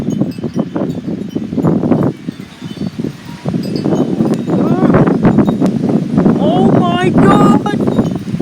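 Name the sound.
heavy wind blowing debris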